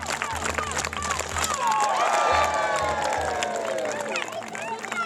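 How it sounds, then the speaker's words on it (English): A family audience at a live knight show cheers and shouts, a loud swelling roar of many voices with whoops and children's shouts, mixed with a steady rhythmic thumping underneath. "when he cuts this post in half, I want a huge cheer"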